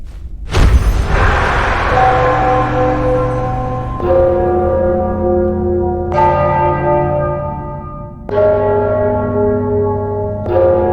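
Large bells ringing in the fantasy video game Enderal, loud resonant strikes roughly every two seconds, each blooming into a long humming decay that overlaps the next, with no voices.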